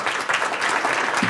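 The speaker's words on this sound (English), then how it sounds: "Applause." Brief burst of audience clapping at a European conference session, dense and fairly close, lasting just over a second.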